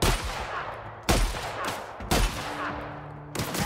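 A sawn-off shotgun in a sci-fi first-person shooter game fires three loud, close blasts about a second apart, each with a sharp attack and a decaying tail.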